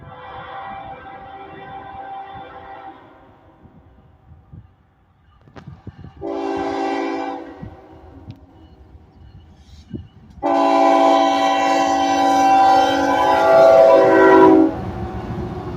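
A freight train hauled by several locomotives passes outdoors on a windy day, with a deep rumbling engine drone that rises in powerful bursts as each unit goes by, loud and close.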